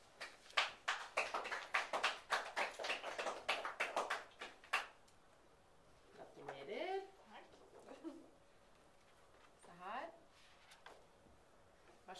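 A small audience claps for Anna at a scholarship award ceremony, a short burst of scattered hand claps that fades after a few seconds, followed by quiet speech.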